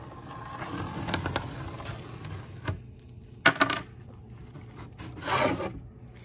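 A pencil tracing a cut line along a plywood sheet, with short scratchy rubbing strokes and a few light knocks, close and fairly quiet with no talking.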